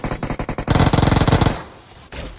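Automatic gunfire in the mobile battle royale game BGMI, a rapid burst of loud, evenly spaced shots in quick succession, then a brief lull before a few more shots, with no talk over it.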